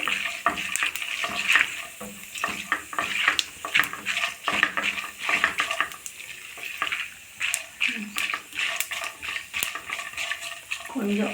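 Peanuts frying lightly in a pan during tempering for a cabbage, capsicum and cheese rice, with steady sizzling and scattered clinks of a stirring spoon against the pan.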